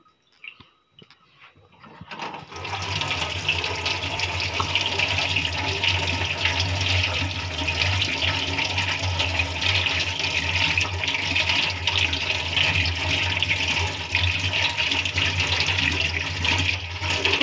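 Raw mutton leg for home-style biryani being rinsed under a running tap: after a quiet start, a steady, close rush of water that keeps going without a break.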